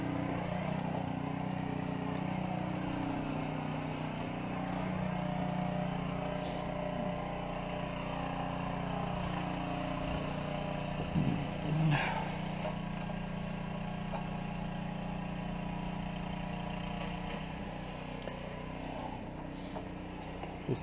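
A Gardenway Troy-bilt snowblower engine races at high speed, a steady loud mechanical drone with a brief clatter partway through, running continuously and close by.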